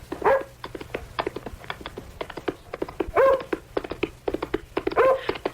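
Dog barking in a radio drama, with sharp repeated barks in quick bursts, some carrying a whimpering yelp, rising and falling in loudness over a quiet background.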